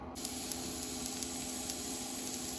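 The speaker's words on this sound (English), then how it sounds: "You can hear everything sizzling and everything's done." Steady, close sizzling hiss of food cooking in a Ninja Foodi Flip dual heat air fryer oven, continuous and even with no voices.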